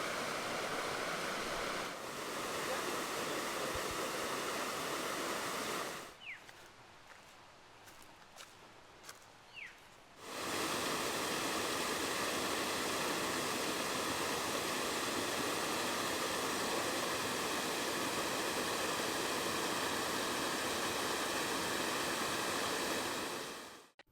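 A waterfall in a gorge roars as a steady, broad wash of falling water, loud and continuous, with a quieter stretch partway through where a few faint knocks and footsteps are heard before the full roar returns.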